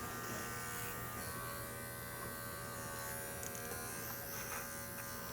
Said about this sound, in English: this clipper is the Bravera made by Wall